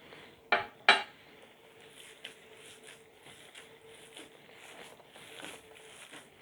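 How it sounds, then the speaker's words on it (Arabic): Meat is stirred with spices, chili and salt in a pan at home: two sharp metallic clanks of a utensil against the pan, then softer scraping and tapping over a faint hum. "نقلبها شوية مع البهارات"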